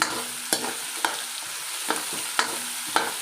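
Tomato, carrots and potato frying in a pan, with a steady close sizzle broken by about six sharp scraping stirs of a utensil at regular intervals.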